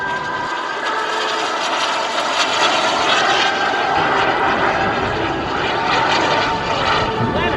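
An all-carbon-fiber Carf Models Bolt turbine RC jet flies at the Warbirds Over Delaware airshow, its loud, continuous turbine roar and hiss holding steady throughout without any speech.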